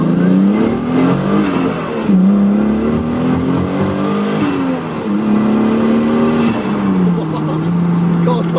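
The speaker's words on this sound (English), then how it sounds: "I'm just going to do a little first gear pull for you guys." A Ford Capri fitted with a turbocharged 2JZ engine makes a first-gear pull, its loud engine note rising and falling in repeated revving sweeps, heard close from inside the car with a voice talking over it.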